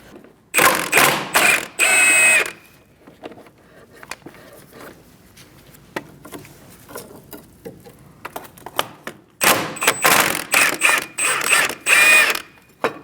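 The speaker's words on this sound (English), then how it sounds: "Using a 16mm socket, we're going to take out this bolt and also this one" A ratchet fitted with a 16mm socket turns out the brake bracket bolts on a 2000–2006 Mini Cooper, giving bursts of quick clicking at the start and again near the end, separated by a quiet stretch with faint handling noises.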